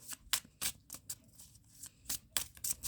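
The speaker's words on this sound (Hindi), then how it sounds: "Last shuffle, next section." Tarot cards are shuffled by hand in a quiet room, a series of soft riffling, flicking bursts in an uneven rhythm, close and faint, with no talking.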